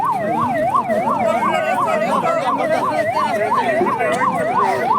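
A loud wailing ambulance siren rises and falls in a steady, rapid cycle, close by and continuous, with traffic noise underneath.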